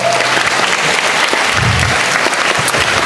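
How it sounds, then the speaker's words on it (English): A final round of audience applause at a school Grade 3 annual day, loud dense clapping from a large crowd filling the whole stretch without a break. "Let's just give everyone one final round of applause"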